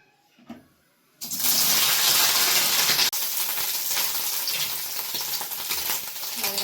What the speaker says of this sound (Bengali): অল্প পরিমাণ কড়াইয়ে সাদা তেল দিয়ে দিয়েছি, আর সাদা তেল দেওয়ার পরে দেখো আমি এখানে সোয়াবিনগুলো আগে ভেজে নেব।